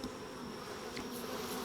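Honey bees buzzing around an open hive during a honey harvest as they are swept off the frames, a steady close drone with a few louder passes of individual bees.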